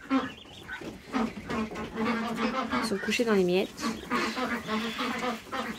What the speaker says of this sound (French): Donc on a 5 coureurs indiens et 14 canards blancs de l'Allier